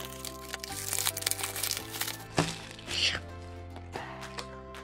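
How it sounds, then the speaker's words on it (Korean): A plastic package of mazemen noodles is torn open at close range, with crackling, crinkling plastic bursts and a few sharp snaps over a steady background hum, with no talking. "뜯어볼게요."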